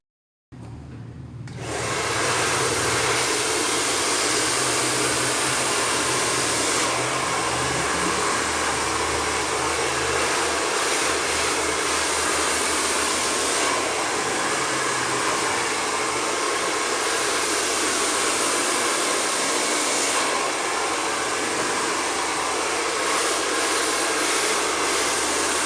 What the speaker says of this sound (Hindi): कुछ लोग ड्रायर इस तरह पकड़ते हैं।